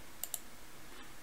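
Two quick, sharp computer mouse clicks close together, quiet and close-up, with a faint room hush around them.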